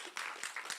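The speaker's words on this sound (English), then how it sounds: "I think that's worth an applause." A brief burst of audience applause at a Youth in Diaspora seventh anniversary event, scattered claps heard quite faintly over less than a second.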